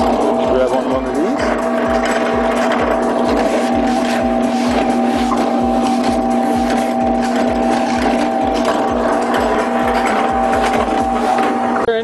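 A concrete curbing machine runs steadily with a fast, even mechanical pulse and a sustained droning hum, a voice talking over it throughout.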